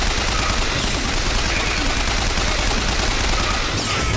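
Sustained automatic gunfire in BioShock Infinite, a dense, unbroken rattle of rapid shots filling the whole stretch, loud and close.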